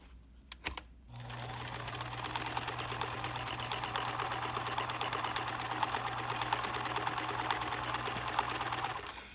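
Sewing machine stitching a seam on a fabric face mask runs in a fast, steady hum with a dense rapid needle rhythm, starting after a short pause and continuing loudly to the end with no talk.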